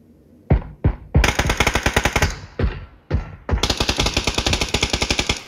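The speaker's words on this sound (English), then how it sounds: "The other guy shooting at me from to the right of that building." Gunfire in the battle royale game PUBG: sharp single shots, then long rapid automatic bursts in loud rhythmic strings, close and dominant with no talking.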